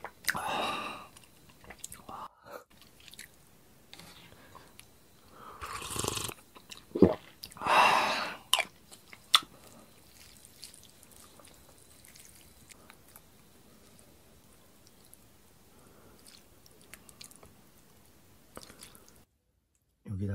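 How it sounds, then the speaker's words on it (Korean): Janchi guksu noodles being eaten in a close-miked session, with soft wet chewing and slurping bursts in the first half, quieter chewing after, and brief quiet speech. "우선은 국수가 불기 전에 국수 먼저 한번 먹어볼게요"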